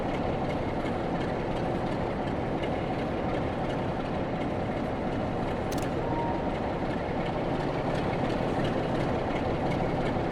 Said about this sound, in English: I can like just sit here and watch the trains come and go.